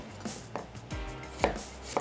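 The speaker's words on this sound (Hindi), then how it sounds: "और प्याज के कर लेते हैं स्लाइसेस।" Onions are sliced with a knife on a board in a few distinct, evenly spaced chopping taps, close and moderately loud, with no talking.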